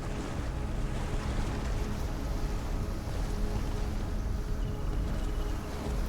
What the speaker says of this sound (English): Boy, these waves are pushing me around like crazy.